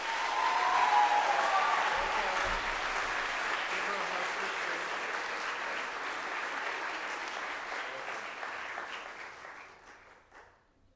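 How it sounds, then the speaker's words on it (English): A chapel congregation at a boarding school applauds three students being recognised, with a steady round of clapping that holds for about nine seconds before tapering off to silence. "a nice round of applause for those three"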